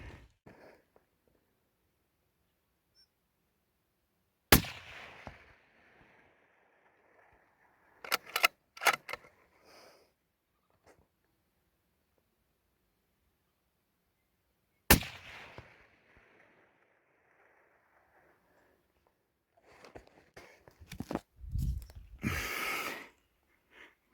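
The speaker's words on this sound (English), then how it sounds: "got 2 real good shots in him" Two sharp rifle shots crack out about ten seconds apart while hunting red deer in Canterbury, New Zealand, each loud and sudden with a fading echo across open country, followed by brief rustling and handling noises.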